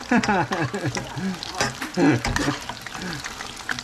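Hot oil sizzles and crackles as shrimp deep fries, with someone talking over the bubbling throughout.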